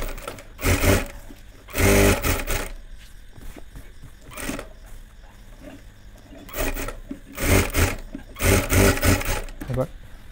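A sewing machine stitches a child's panjabi in short bursts of fast whirring, with two longer runs early and later, separated by quieter handling noises and fabric rustle.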